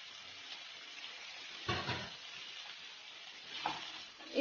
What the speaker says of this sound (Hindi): इन सभी को अच्छे से मिलाते हुए हमें धीमी आंच में भून लेना है।